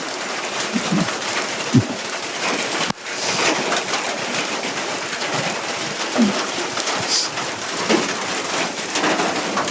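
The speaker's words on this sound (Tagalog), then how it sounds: "pag tumila na yung ulan" Steady rain pours down in a deserted ghost town in Davao de Oro, Mindanao, a dense, even hiss of drops on surfaces with a few scattered louder splats and a faint bird call.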